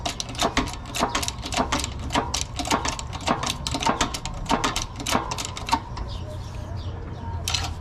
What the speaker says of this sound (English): Wheel hub goes on, and then my 19 mil socket, and this is gonna go bottomed out as well too.